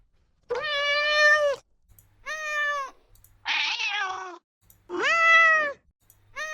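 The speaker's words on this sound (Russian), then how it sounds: "То есть голодный кот мяукает." A synthetic sound effect of a hungry cat meowing: four loud, close, drawn-out meows separated by short silences, one of them harsher and more strained than the others.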